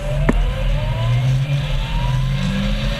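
Caterham race cars accelerating at Oulton Park, a loud close engine drone climbing in pitch as several cars pull away together, with a brief sharp knock near the start.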